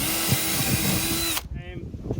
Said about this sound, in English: Drill these holes just like that piece of wood, oversized